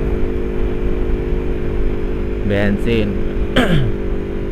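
A Yamaha R25 motorcycle engine hums at a steady, moderate pitch while being ridden, droning continuously as someone talks over it.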